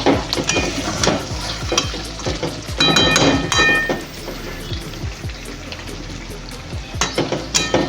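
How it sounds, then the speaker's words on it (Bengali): Chicken and tomato frying in a pan, a loud wet sizzle broken by repeated scraping strokes of a spatula stirring the mixture in an irregular rhythm. "আর এই টমেটোটা দিয়ে ভালো করে কষিয়ে নেব"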